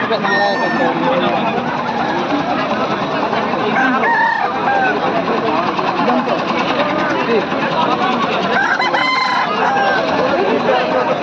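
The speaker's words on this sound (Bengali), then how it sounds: "টেকো হাটে মুরগি প্রচুর" Chickens and roosters at a busy weekly poultry market cluck and crow, with a couple of clear crows standing out over constant crowd chatter and a low engine hum.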